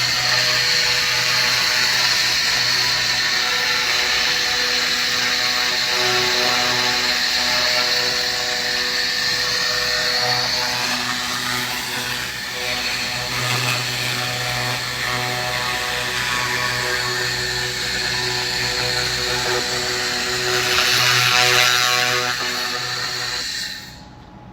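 An AccTek AKQ-1500-H fiber laser cleaning machine strips rust from metal, giving a loud, continuous high hiss and buzzing drone that holds steady for over twenty seconds before cutting off.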